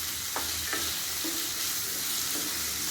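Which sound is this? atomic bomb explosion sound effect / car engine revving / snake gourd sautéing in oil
snake gourd sautéing in oil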